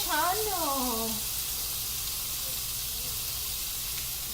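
Onion and tomato tipped into hot tempering oil sizzle with a steady, close broadband hiss that carries on evenly after a brief voice at the start.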